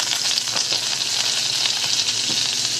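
Raw prawns sizzle and fry in a pan with pepper, a steady dense hiss with small crackling pops throughout, close and fairly loud with no voices.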